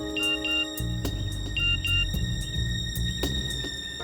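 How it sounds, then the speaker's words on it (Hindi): A mobile phone rings in a tense scene from a Hindi crime drama, sounding a repeating electronic ringtone of bright beeping tones over a low, pulsing music score, with no one speaking. "फोन बजा।"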